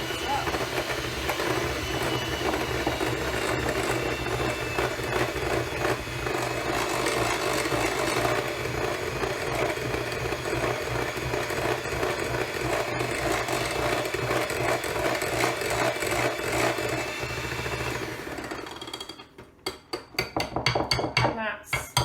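Electric mixer whirring steadily through cupcake sponge batter in a bowl for about eighteen seconds, a continuous close buzz with faint rattling, then cutting out into a few clinks.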